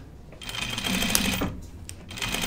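A home sewing machine runs in a steady mechanical whir for about a second, rising and then easing off, with quieter handling noise before and after.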